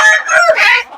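A single loud, close naked-neck chicken calls in a brief harsh crowing cluck lasting about a second, with no voices.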